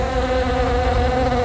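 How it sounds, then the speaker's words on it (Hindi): A housefly buzzes steadily and close by for the whole moment, a continuous droning hum with no speech over it. "मैंने तुझे मक्खी मारने को कहा था"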